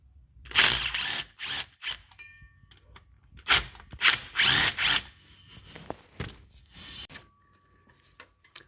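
Ratchet wrench clicking in repeated bursts while removing the transmission bracket bolts, metric hardware, under a BMW E63 M6 during drive shaft and Guibo work, close and loud with short pauses between strokes.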